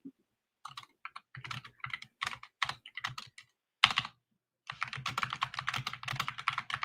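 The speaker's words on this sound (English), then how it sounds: "It's the typing for me, y'all." Rapid clattering keystrokes on a computer keyboard, close and fairly loud, coming in irregular bursts with a short pause midway before a steadier run of typing.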